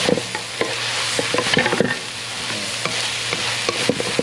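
Ingredients for a northern Lao dish are dry-roasted and stirred in a pan, with repeated scraping and tapping strokes over a steady low sizzle, close and fairly loud, with no talking.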